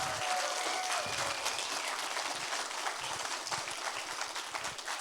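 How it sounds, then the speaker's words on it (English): A large audience gives a sustained round of applause at the close of an inspirational talk, a full, even wash of clapping that fills the hall and eases off slightly toward the end. "one more round of applause, please."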